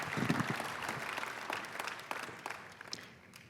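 An audience at an education leadership award gala breaks into applause, a full rolling patter of many hands that gradually tapers off over a few seconds.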